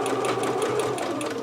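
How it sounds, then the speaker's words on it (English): A domestic sewing machine runs steadily, stitching a regular 5/8 seam on a Butterick 6322 pattern garment. It is close and continuous, with a fast, even whirr and needle rhythm and no talking. "So doing a regular 5/8 seam,"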